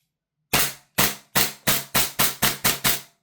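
HK416A5 toy blaster shooting on semi-auto: eight sharp, close cracks in a quick, slightly uneven rhythm over about two and a half seconds, with silence before the first shot.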